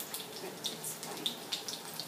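Water running from a kitchen tap while vegetable samosas are being prepared, a steady faint broadband rush with small splashing ticks, heard alone without talk.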